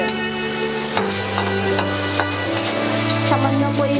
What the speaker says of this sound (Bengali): চিংড়ি মাছটা একটু লাল করে ভেজে নেবেন।